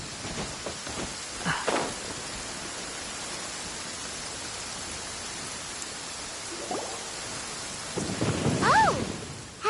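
A thunderstorm in the video game Genshin Impact rumbles under a steady wash of rain, with low thunder rolls swelling at intervals and a brief faint voice-like sound near the end.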